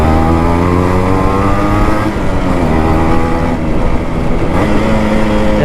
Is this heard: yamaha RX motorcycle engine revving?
yes